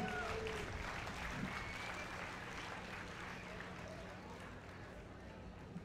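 Audience applauding people on stage at a stage hypnosis show, a continuous, fairly faint and distant patter of clapping with murmuring crowd voices underneath.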